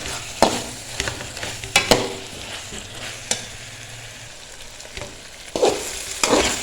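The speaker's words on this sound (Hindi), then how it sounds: "अब इसको कवर नहीं करेंगे, अब इसको इसी तरह भूनेंगे 5 मिनट तक ताकि ये भी सॉफ्ट हो जाए" Mixed vegetables for pulao fry uncovered in a pan, a steady low sizzle broken by several sharp scrapes and clacks of a stirring spoon, close and without talk.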